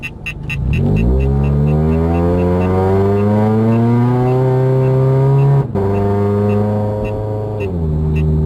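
A supercharged Scion FR-S fitted with an Edelbrock supercharger pulls hard in second gear, its engine note climbing in a long, loud rising whine, dipping briefly at a throttle lift, then rising again.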